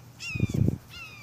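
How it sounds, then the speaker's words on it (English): Outdoors, a crow gives a short burst of harsh, rough caws at moderate distance, with a quieter call trailing after, alone without talking. "there would be crows sitting out there, and they would be going caw, caw, caw, caw, like really loud"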